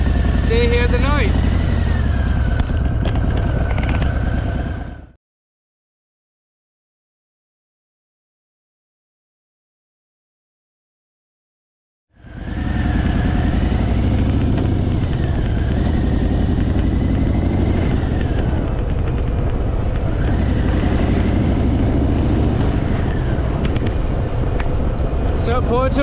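A Harley motorcycle rumbles steadily on the road in the Mogán Valley on Gran Canaria, with heavy wind buffeting the microphone. The engine noise cuts out for several seconds of silence and then resumes at the same level, with a voice speaking over it.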